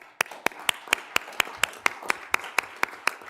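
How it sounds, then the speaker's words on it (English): A small group at a county board meeting claps in a steady, even rhythm of about a dozen sharp, distinct hand claps, moderately loud and close, with no talk over them. "Please join me in a round of applause for our Public Works team this Public Works Week."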